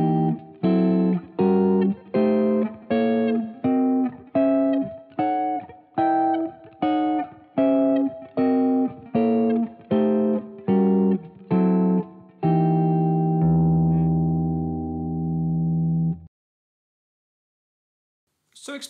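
A diminished scale played as a run of chords on an effects-laden electric guitar: about sixteen evenly spaced, punchy hits moving steadily, ending on one longer sustained chord that stops abruptly.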